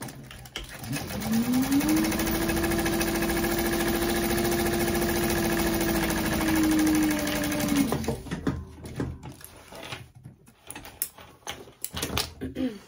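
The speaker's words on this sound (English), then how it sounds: "And I'll sew that together." A sewing machine stitches fabric for a small backpack, running in one steady, close whirring burst of several seconds with a rising and falling motor tone, then stopping as handling noises follow.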